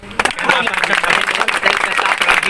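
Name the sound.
crowd clapping at election rally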